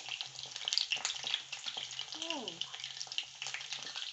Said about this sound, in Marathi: आता ह्याला मस्त क्रिस्पी होईपर्यंत फ्राय करून घ्यायची